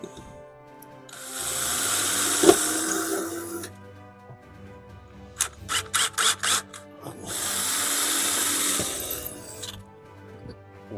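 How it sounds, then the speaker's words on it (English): A single screw driven into a wooden floor during a bus camper conversion, with two long whining bursts of a power driver separated by a quick series of short ratcheting pulses. "I'm just going to put one screw in it to hold it"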